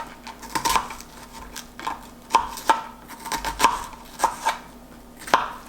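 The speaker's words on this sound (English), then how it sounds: "Just gonna cut up my onion." A knife chopping an onion on a cutting board for shrimp tacos, making about a dozen close, crisp, uneven knocks that come in irregular bursts.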